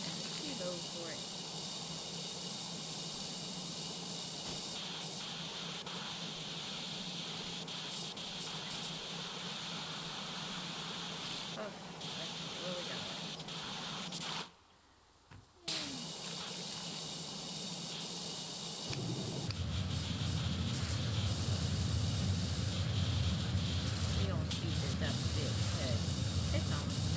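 A pressure washer sprays steadily in Powerwash Simulator, a continuous close hiss that cuts out for about a second midway, then resumes with a fuller, louder low gushing tone.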